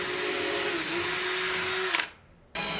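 A power drill whirs steadily at close range for about two seconds, driving a 3-inch number 10 deck screw, winds down and stops, then starts up again briefly.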